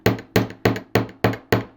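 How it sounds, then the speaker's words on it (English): Hammer blows flattening and setting the curve of a wire heart pendant, six sharp metallic strikes at an even, unhurried pace, close and fairly loud with brief decays between them. "I'm just going to hammer this curve"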